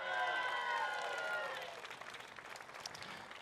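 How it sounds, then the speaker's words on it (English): Crowd applause and cheering for the race winner at a Portland motor race, loud at first with tonal cheering or voices over it, then thinning into scattered clapping. "The race winner today, a round of applause for Michael"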